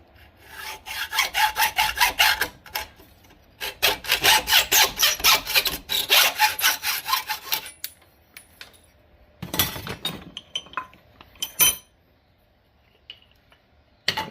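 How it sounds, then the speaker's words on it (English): A hacksaw cuts through a muzzleloading rifle ramrod clamped in a vise, giving loud rhythmic rasping strokes in steady bursts for several seconds, then a pause and a few shorter, scattered strokes near the end. "So go ahead and put this in the vise. Grab my hacksaw."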